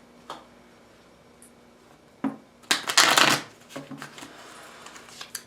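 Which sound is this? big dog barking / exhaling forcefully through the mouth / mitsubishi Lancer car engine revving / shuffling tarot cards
shuffling tarot cards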